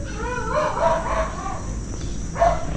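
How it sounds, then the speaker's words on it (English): Dogs bark in short, faint bursts across a residential neighbourhood of Tarlac City, Philippines, in the early morning, with distant rooster-like calls mixed into a steady background hum. "dogs barking."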